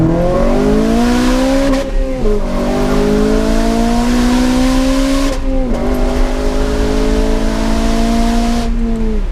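A modified 2007 Honda Civic Type R with an induction kit and aftermarket exhaust revs loudly with a throaty exhaust, pitch climbing through gears with brief dips at each shift, heard close from inside the car.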